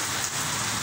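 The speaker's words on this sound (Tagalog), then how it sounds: "ang lakas po ng ulan" Heavy typhoon rain pours down in a steady, dense broadband wash, loud and continuous with no voices over it.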